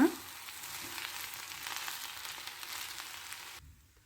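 Cumin rice stirred and mixed in a sizzling pan, a steady frying hiss with soft scraping through the mix, moderately close, before cutting off abruptly near the end.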